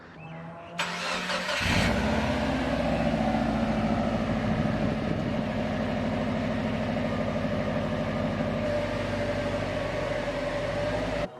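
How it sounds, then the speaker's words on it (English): A Subaru WRX engine cranks and catches, then settles into a steady, rumbling idle from the stock exhaust that continues evenly until it cuts off. "this is going to be the last time we hear the stock exhaust"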